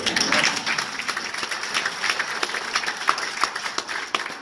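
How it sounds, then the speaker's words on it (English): Scattered audience applause at a town hall in Battle Ground, Washington, a crowd clapping steadily with irregular sharp hand claps over a busy room murmur, moderately loud and fairly close throughout. "Can I get an applause line?"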